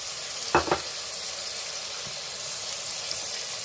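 Ginger garlic paste fries in a pan for spinach and mutton curry, giving a steady, close sizzle, with one brief louder scrape or stir near the start; no talking.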